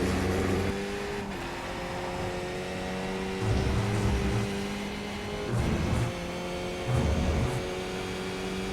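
Race car engine lapping VIR in a video game, a loud continuous drone with steady harmonics, rising and falling with shifts and three surging bursts of revving near the end, no talk.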